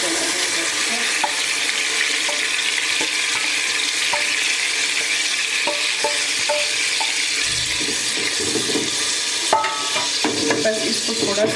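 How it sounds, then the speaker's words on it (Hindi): Frozen boiled mustard greens saag with chicken stir-fried in a pan, a steady sizzle and hiss throughout with repeated scraping and stirring clatter, close and continuous with no talk. "बस इसको थोड़ा सा हमने भूनना है ताकि इसकी जो बर्फ़ है वो मेल्ट हो जाए।"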